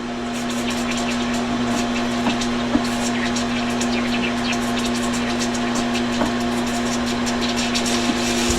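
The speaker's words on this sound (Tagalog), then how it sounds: "Pahigupin na natin yung motor mga kanaypi." An electric water pump motor primes and draws water after installation, a close, loud and constant hum with a steady tone and faint irregular clicks and gurgles.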